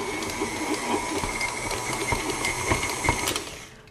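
Electric mixer kneading flatbread dough, a steady motorized whir with a bright hiss and faint rhythmic knocking, fairly loud and close, tapering off as it stops.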